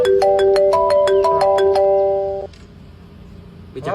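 A phone ringtone plays a melodic run of bright electronic tones for about two and a half seconds, then cuts off, leaving quiet room tone.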